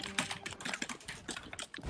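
Rapid, uneven typing on a computer keyboard, with close, crisp clicks of the keys tapping in quick bursts during an online gaming match.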